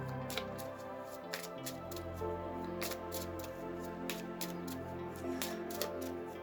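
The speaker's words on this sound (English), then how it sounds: "So I always use the Moonology deck because I love it. And let's give it a good shuffle here." Moonology oracle card deck being shuffled by hand during a reading, giving a quiet series of crisp, irregular riffling snaps and soft slides over a faint low hum.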